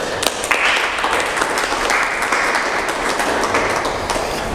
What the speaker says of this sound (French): mais ça ne nous empêche pas de les applaudir